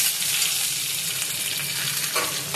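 Two dried red chillies and onion frying in hot oil for butor dal, a loud, dense, continuous crackling sizzle close by with faint stirring.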